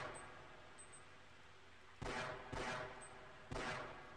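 Gunfire in the PC game Half-Life: three sharp, loud shots a second or so apart, each with a brief ringing tail over a quiet background.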